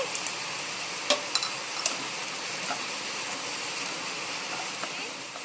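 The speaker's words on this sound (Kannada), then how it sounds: "ಈಗ ಸ್ವಲ್ಪ ದ್ರಾಕ್ಷಿಯನ್ನು ಸಹ ಸ್ವಲ್ಪ ತುಪ್ಪದಲ್ಲಿ ಫ್ರೈ ಮಾಡ್ಕೊಳ್ಬೇಕು" Raisins fry in ghee with a soft, even sizzle, broken by a few faint clicks of a spoon near the pan.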